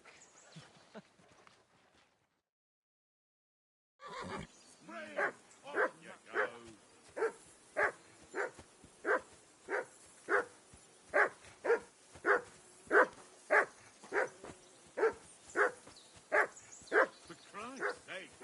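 A dog barks repeatedly in a steady rhythm, about two barks per second, loud and near, after a brief silent pause, in the medieval video game Kingdom Come: Deliverance II.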